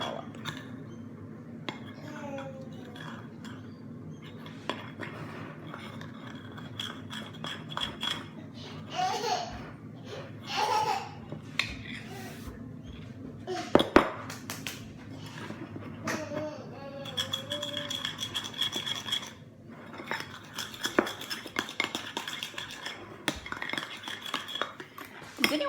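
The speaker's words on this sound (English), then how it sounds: "a whole scoop of the EHP Labs Oxy Whey. And then you just stir it all up." A spoon stirs EHP Labs Oxy Whey protein in a bowl, producing repeated scraping clinks of metal on the dish in irregular bursts, near and fairly loud, with some background chatter and laughter.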